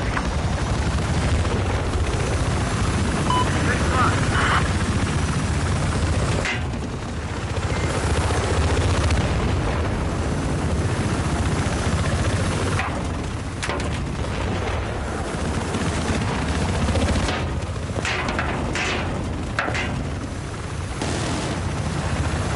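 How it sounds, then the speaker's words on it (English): A helicopter in the Battlefield 4 video game drones loudly and continuously throughout, mixed with dense battlefield noise and sharp bursts of gunfire or explosions. "Get that helicopter! Get the helicopter!"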